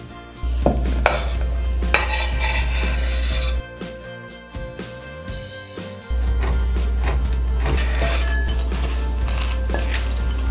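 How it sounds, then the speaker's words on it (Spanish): Kitchen clatter of chopping and stirring salad ingredients with walnuts, sharp knocks and scraping of utensils against a bowl over a steady low hum that drops out briefly midway. "Lo único que tenemos que hacer es picar todos los ingredientes y revolverlos."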